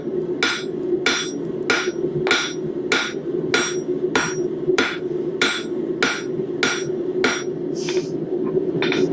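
A hammer forges hot metal on an anvil face, ringing with steady, evenly spaced sharp blows, about a dozen strikes, loud and close with no talking.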